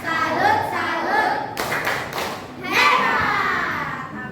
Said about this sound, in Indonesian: Kita kasih tepuk salut yuk buat apipa.